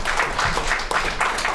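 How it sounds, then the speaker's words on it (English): A meetup audience gives a short round of applause, a close, dense wash of clapping that runs steadily throughout. "Round of applause"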